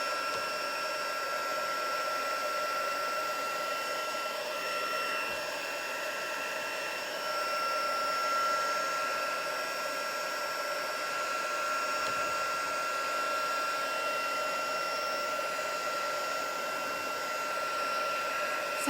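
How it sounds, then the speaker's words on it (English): A heat tool drones steadily at close range while heat-setting watercolour embossing on a book page, a continuous whine with no talk over it. "So let me just heat set that quickly before I start adding inks."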